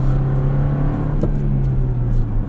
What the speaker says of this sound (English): The revs seem to drop about in the time that it takes to change gears.